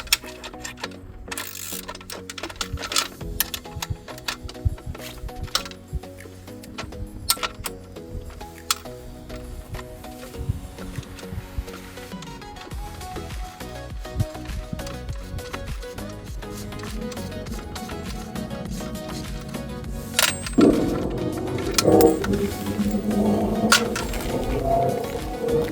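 Screws are removed from a Young Electric EZ Fold 1 folding bike rack, with scattered metallic ticks, clinks and ratcheting clicks that come in irregular bursts close by and grow busier toward the end.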